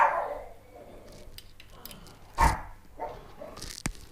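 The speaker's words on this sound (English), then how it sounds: "That's our pug out there barking." A pug barks a few times outside at a distance, short sharp yaps spaced apart and fairly faint over a quiet background.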